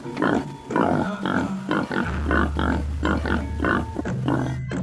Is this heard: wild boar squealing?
yes